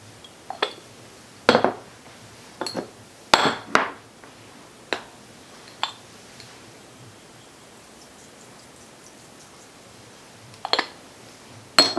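Stirring chicken and dumplings with evaporated milk in a pot: scattered scrapes and clinks of a utensil against the pot, a dozen or so separate knocks spaced irregularly, close and fairly loud against a quiet background.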